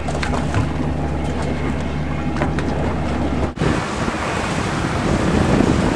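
Wind and waves on open sea off Florida on a breezy day with a north wind, loud steady surf wash mixed with heavy wind buffeting the microphone, a low engine hum fading midway.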